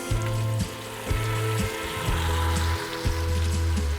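Onions fry in butter in a pot, giving a loud, continuous sizzle and crackle close up, with a low pulsing hum underneath and no talking.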